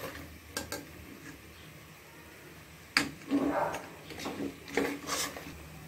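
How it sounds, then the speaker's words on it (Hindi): Potatoes for biryani stirred and fried in a pot, with a few spoon scrapes and clinks against the metal over a low sizzle, close by and sparse, briefly louder in the second half. "अच्छी तरह मिक्स करना है, मिक्स करके साथ ये फ्राई होते जाएंगे"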